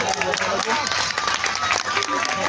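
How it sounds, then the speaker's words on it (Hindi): An audience at a live poetry show in Liaqat Park, Quetta, breaks into dense, continuous applause that stays fairly loud throughout, with voices mixed in. "बहुत सी तालियां"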